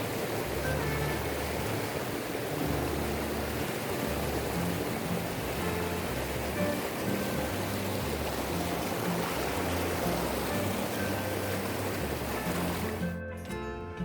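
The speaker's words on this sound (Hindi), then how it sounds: "यहाँ बहती पहाड़ी नदी यह बताती है कि आगे सुंदर झरना है।" A mountain river flows on the way to the Siddhnath Ki Dari waterfall, a continuous broadband rush of water heard close and steady throughout before cutting off abruptly at the end.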